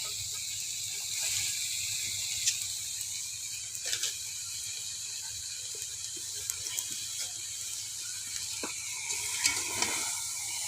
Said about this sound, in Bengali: সবজিটা কষানো হয়ে গেছে এবার বাঁধাকপিগুলো দিয়ে দেবো